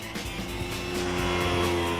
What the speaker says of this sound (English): It's got that very high revving motor, which sounds really good when you're pushing it hard.